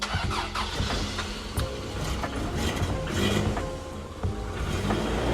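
An old carburettor engine in a 1986 Toyota 4Runner cranks and sputters on a cold start, struggling to catch, with uneven bursts of turning over and rattling mechanical noise, close by and loud.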